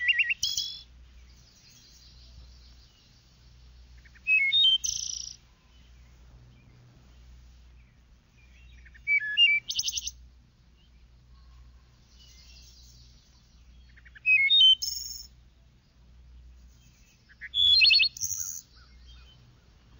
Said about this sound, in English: To show the marvelous improvisations of the thrush, the endless variety of his song